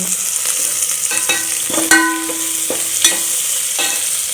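Chopped onion frying in a pan while paneer biryani is being made, an even bright sizzle with repeated metal spoon clinks and scrapes on the pan, close by and without speech.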